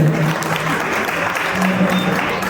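A crowd claps loudly at a sangeet night celebration in Maharashtra, dense continuous applause from many guests lasting the whole moment, with faint voices mixed in.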